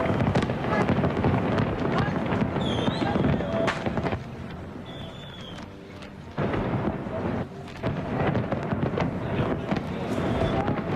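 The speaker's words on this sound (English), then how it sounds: "We're getting to that stage in the day where it's hard to tell whose fireworks are whose." Fireworks at the London millennium celebration on the Thames boom and crackle continuously in loud rolling bursts, with a brief quieter lull midway and a crowd-like wash underneath.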